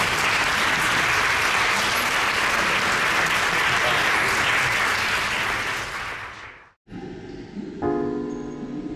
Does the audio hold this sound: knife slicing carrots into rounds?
no